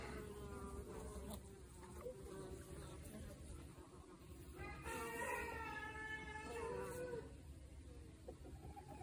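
Bees buzzing around a beehive where an intruding bee is being expelled, a steady dense hum with individual bees droning closer at moments, moderately quiet and continuous.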